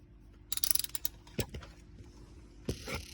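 Ratchet clicking while loosening the oil drain on a 2008 Dodge Ram 2500 with a Cummins 6.7 diesel, a few short bursts of quick close-up clicks separated by brief pauses.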